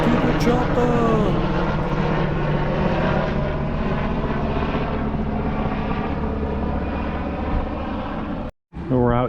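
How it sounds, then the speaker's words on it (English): Continuous loud drone of an aircraft engine and propeller passing near a marina, steady and close throughout with a brief dropout near the end; no clear speech over it. "Get to the chopper!"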